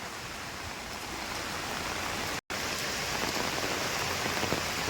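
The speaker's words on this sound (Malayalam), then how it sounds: "നല്ല മഴയെന്ന് പറഞ്ഞാലും പോരാ നല്ല മഴയാണ്" Heavy rain pours down in a dense, continuous hiss, drops drumming on surfaces close by without any voices.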